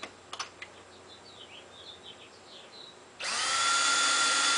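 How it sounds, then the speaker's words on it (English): Power grinder starts up after a few faint clicks and whirs at steady high pitch, loud and close, grinding down a baggage door lock part on a restored Shasta trailer. "So all we got to do is grind it down a little bit further."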